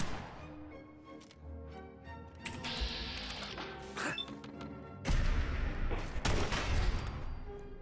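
Combat rifle gunfire in Fallout 4: bursts of rapid shots with crashing impacts and game effects, growing louder and denser toward the end, without talking.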